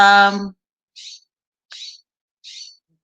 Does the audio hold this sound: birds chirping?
yes